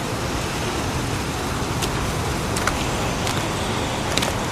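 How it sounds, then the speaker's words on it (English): Steady broadband rain hiss from an outdoor scene in the video game Heavy Rain, a continuous downpour at moderate level with no talk over it, ending in a brief sharp sound at the very end. "It's pouring rain."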